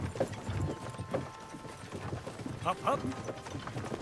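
Horses' hooves clip-clop in the medieval game Kingdom Come: Deliverance II, an uneven run of moderately close hoofbeats with a brief clatter under a man's short spoken urging.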